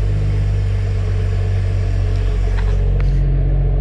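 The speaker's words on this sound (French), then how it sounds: "je voulais vous faire écouter très brièvement le Cold and Start" A BMW car engine idles after a cold start, a steady loud low rumble with a constant hum running throughout, close by and with no talking.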